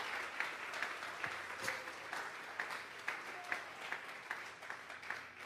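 A church congregation claps as an offering to God during a Sunday service. The clapping is fairly faint and rhythmic, with individual claps landing in a loose, regular beat over a soft room murmur.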